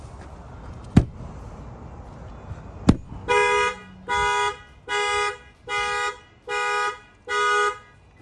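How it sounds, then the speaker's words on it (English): Two sharp knocks on the body of a 2024 Toyota Tundra pickup trip its add-on shock sensor, then the alarm blares in a steady pulsing pattern of six loud, evenly spaced honks. "Anywhere around the truck that you bang on it is gonna set off the alarm."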